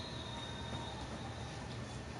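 A train rumbling past at a distance, a steady low, noisy roar with faint high squeals from the wheels, continuous for the whole stretch with no voices.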